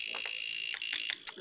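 A small buzzer on a homemade 7-segment display module gives a steady high electronic tone with a few short beeps layered over it. It is fairly faint and heard alone.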